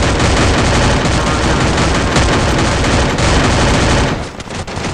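Loud, continuous rapid gunfire in a Free Fire battle-royale match, a dense unbroken barrage of shots that eases slightly at the end.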